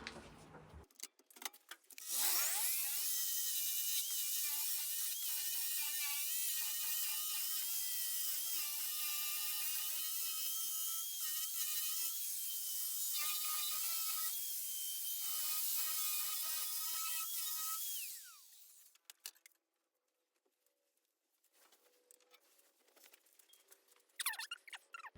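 A power polisher runs steadily against a metal lathe table top for a long stretch, a loud continuous whine with slight pitch wavering, then cuts off and winds down into quiet handling noises.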